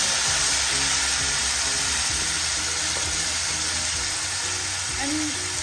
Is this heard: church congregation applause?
no